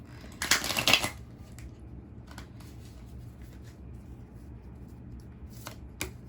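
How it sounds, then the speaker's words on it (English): A deck of tarot cards is shuffled close by in one brief crisp riffling burst, followed by quiet handling, a few light clicks and low background hum. "Shuffle one more time."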